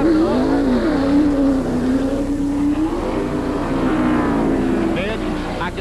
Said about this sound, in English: You heard that engine go, wow, wow, wow.